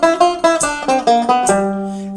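A guitar plays a short lick from a major/minor scale shape: about eight clean plucked notes in a quick, even rhythm, ending on a held, ringing note, close and alone.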